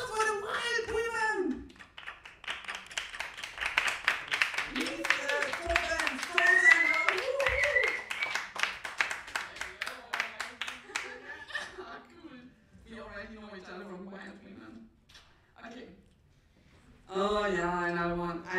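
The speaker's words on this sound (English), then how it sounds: "applause for the wild women!" An audience claps and cheers with laughter mixed in, a crowd's applause running loudly under and between a voice talking, tapering then returning near the end.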